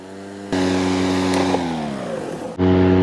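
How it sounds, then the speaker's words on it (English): The blade of an EGO Power+ 56V 21-inch cordless electric lawn mower spins up with a sudden whir, holds a steady hum, winds down briefly, then kicks back in loudly; no talking. "We're going to hear the mower engage."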